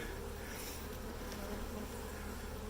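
Honey bees buzzing at a Flow Hive, a dense, continuous hum of many insects close by, faint overall and steady throughout with no talking.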